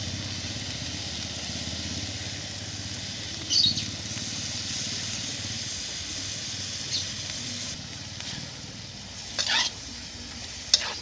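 Food sautéing in a pan while being stirred, a continuous close sizzle and hiss with occasional scraping clatters of the utensil against the pan, no speech heard.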